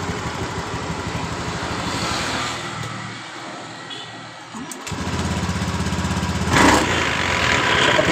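Honda Beat scooter engine cutting out and restarting, then running with a rough, uneven idle; a close buzzing engine note that drops away, returns firmly, and flares briefly near the end.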